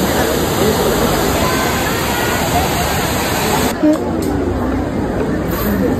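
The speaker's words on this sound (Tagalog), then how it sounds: "Yan o, Trevi Fountain." Water splashing and rushing at the Trevi Fountain in Rome, a loud, steady roar of falling water mixed with a busy crowd murmuring nearby.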